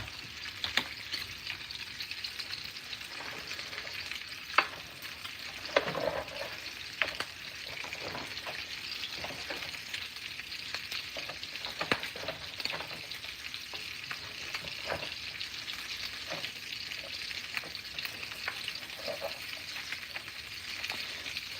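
Breakfast hash with bacon frying in a pan, a continuous close sizzle with intermittent scraping and stirring clacks throughout.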